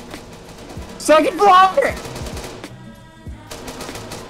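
Rapid bursts of gunfire in the video game Arma 3 crackle during a building-clearing firefight, with loud shouting voices over the shots.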